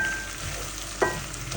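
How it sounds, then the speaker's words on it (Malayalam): Chopped onions sauté in a pan for an egg curry, a soft continuous sizzle with a single sharp clink of a utensil partway through, close and without talk. "സവോള നന്നായിട്ട് സോട്ട് ചെയ്ത് കൊടുക്കുക."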